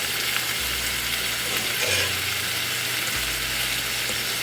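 Scrambled eggs frying in a pan, a dense steady sizzle with occasional stirring scrapes, close and continuous with no talk.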